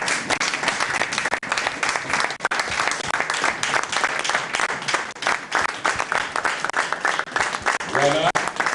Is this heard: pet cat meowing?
no